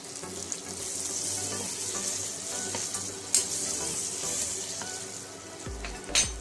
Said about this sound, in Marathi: तेलामध्ये पण थोडीशी कोथिंबीर घालून घ्या।